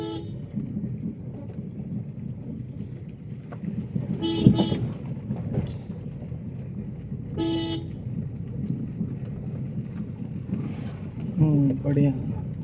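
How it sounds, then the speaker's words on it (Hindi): A commercial driving-school car sounds its horn in two short distinct toots, moderately close, over road noise and engine hum, with people talking inside the car and a faint further honk near the end. "हॉर्न देना ज़रूरी है कॉमर्शियल गाड़ी को"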